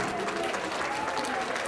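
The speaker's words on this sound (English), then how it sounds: "Round of applause, please." An audience applauds at a birthday celebration, a steady wash of clapping that holds at an even, moderate level throughout without any voices standing out.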